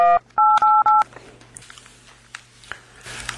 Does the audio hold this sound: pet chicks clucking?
no